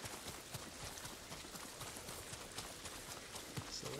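Hooves clip-clop in a fast, even gallop as a horse runs in the samurai video game Ghost of Tsushima, the rhythmic thuds continuing for the whole stretch at a moderate, close level with no talk.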